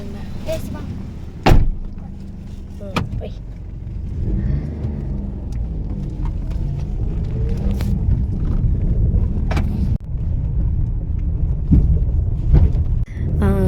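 A car sets off on an empty city road in the dark before dawn, its engine rumbling steadily from inside the cabin, with a door slam and a few knocks near the start.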